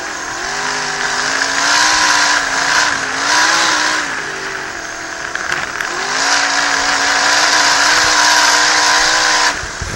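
Dirt-track race cars roar through a 30-lap feature event in New England, a loud, steady wall of engines rising and falling as the pack circles, with no talk over it.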